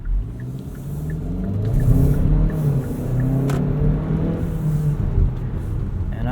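2017 Kia Sportage SX Turbo AWD driving at night, heard from inside the cabin as a low steady engine rumble that rises with mild acceleration, plus road and tire noise, smooth and continuous.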